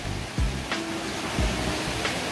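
Clear water flowing through a narrow mountain valley stream at Gwangdeok Valley in Gangwon-do, a constant full rushing wash with a few faint low thumps.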